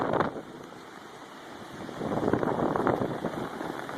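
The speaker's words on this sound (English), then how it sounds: "gusting up to about 30 miles an hour, or maybe greater" Strong wind gusts roar and buffet the microphone on a night in Kent, Washington, with gusts near 30 to 35 mph, the rushing noise swelling louder in the second half.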